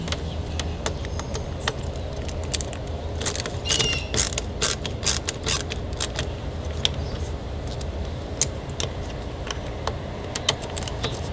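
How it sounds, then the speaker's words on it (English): A Torx star bit backs out the two screws holding a car's mass airflow sensor, giving close, repeated clicks and creaking metallic ratcheting over a steady background hum. "Torx head bit, star some people call it, to get the mass airflow sensor out"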